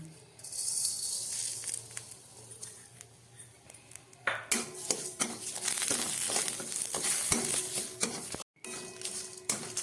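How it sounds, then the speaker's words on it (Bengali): Sugar fries in ghee in a pan for payesh while being stirred: quiet scraping at first, then a louder burst of crackling sizzle with clinks of the spoon against the pan. "চিনিটাকে এইভাবে একদম অল্প আছে বেশ খানিকক্ষণ ভেজে নিতে হবে।"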